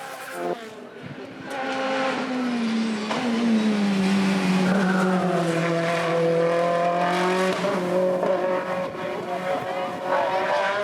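A Mitsubishi Lancer Evo race car in a closed-car hill climb event roars loudly past, engine pitch sliding through gear changes with tire squeal, while a commentator talks over it.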